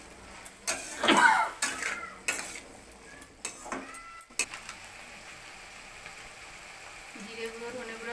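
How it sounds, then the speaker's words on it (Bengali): Spoonfuls of turmeric, cumin and coriander powder being stirred in a cooking pan for chana masala, with close scraping and clinking of utensil against metal in short bursts, then quieter faint rustling. "ধনে গুঁড়ো দিয়ে আমি প্রথমে একটু নাড়বো"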